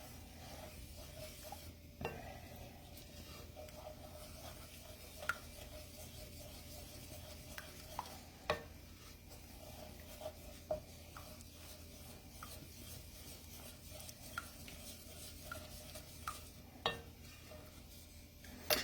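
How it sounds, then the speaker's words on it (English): A spoon stirs a flour, creamer and butter roux in a pan, making faint, steady soft scraping broken by occasional light clinks against the pan, with no speech. "So I'm just going to continue to stir. We want to mix the flour and the creamer and the butter and everything together."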